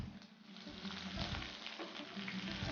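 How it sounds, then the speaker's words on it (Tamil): Green chillies, garlic, ginger and curry leaves sautéing in a pan, a dense, steady, faint sizzle running throughout with no talking. "சாப் பண்ண பூண்டு, க்ரீன் சில்லி எல்லாம் ஒன்றா போட்டு வதக்குறாங்க"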